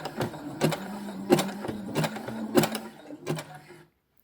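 A sewing machine stitches elastic onto lace lingerie fabric in short rhythmic bursts, a steady mechanical chatter with pauses between runs, close and moderately loud before stopping.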